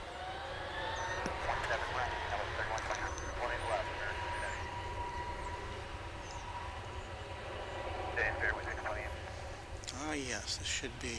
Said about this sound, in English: this should be American Flight 2514 winging its way to Phoenix, Arizona